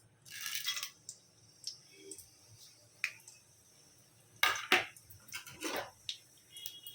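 Whole cardamom, cinnamon, pepper, cloves and shahi jeera dropped into a hot pan, making scattered faint clicks and small rattles in brief clusters, with quiet gaps between them.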